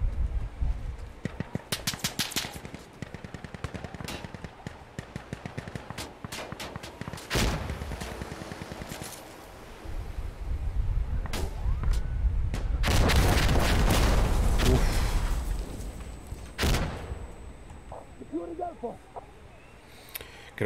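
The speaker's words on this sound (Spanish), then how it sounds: "Estoy escuchando disparos de tirador." Several sharp sniper rifle gunshots ring out in Insurgency: Sandstorm, some isolated and some in quick clusters, with booming blasts and a voice speaking in places.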